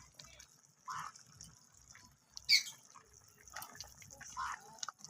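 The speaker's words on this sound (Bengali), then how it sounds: "আর এখানে ঝোলটা ফুটছে।" A niramish vegetable curry with plong saag, cauliflower and flat beans simmers in a covered pot, giving soft intermittent bubbling and dripping pops, quiet and close, with faint background noise.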